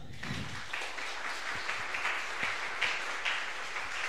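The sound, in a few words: audience applause at a conference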